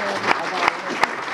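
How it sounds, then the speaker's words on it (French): An audience applauds at the installation ceremony of the MEER of Nguéniène, right after a new coordinator's speech; a steady wash of clapping with a few sharper claps standing out. "Vos applaudissements, s'il vous plaît."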